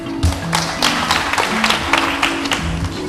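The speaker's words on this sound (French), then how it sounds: "Merci de l'applaudir" Audience applause on a French spelling quiz show, a short round of scattered clapping over a low background hum.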